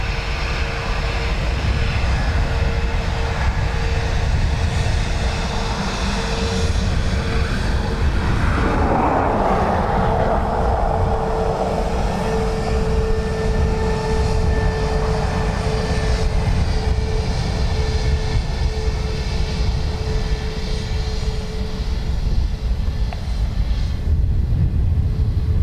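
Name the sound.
aircraft taking off from runway 10, Dublin Airport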